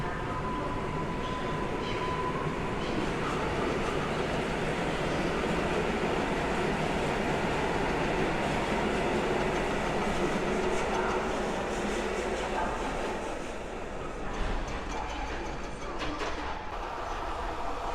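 An EN57 electric multiple-unit train pulls out of Warszawa Zachodnia station toward Otwock, a loud continuous rumbling roar of motors and wheels on track that holds steady for the whole span, heard close from the platform.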